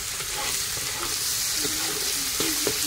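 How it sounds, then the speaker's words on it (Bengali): Spice paste for chicken curry sizzles steadily in a pan, a continuous close fry with a few soft stirring scrapes near the end and no talk. "আর এদিকে আমি চিকেন করবো বলে মশলাটা কষাচ্ছি।"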